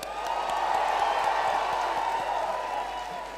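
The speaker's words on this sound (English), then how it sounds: "A huge round of applause for all of you." A graduation-ceremony audience at Sri Balaji University in Pune gives a huge round of applause for the graduating batch: a steady, full wash of clapping and crowd cheering that holds throughout.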